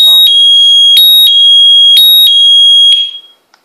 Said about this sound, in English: so the panic function operates on the key fob at any time, whether the alarm is set or unset